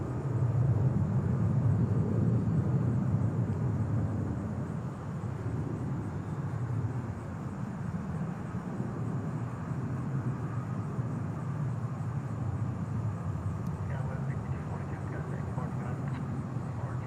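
An airplane at DFW International Airport roars loudly at first, then eases into a steady, broad rumble, with voices talking over it.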